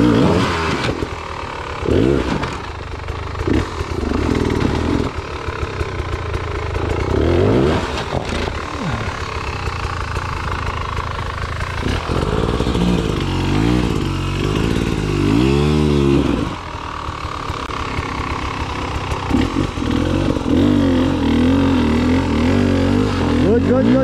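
Enduro motorcycle climbing a steep uphill trail, its engine revving hard with repeated surges and throttle blips, close and loud, while several people shout encouragement over it.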